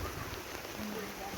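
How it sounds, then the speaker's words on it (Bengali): Steady rain falling on a small village garden with dragon fruit plants, an even close patter with no pauses, lasting only a moment. "বৃষ্টি হচ্ছে।"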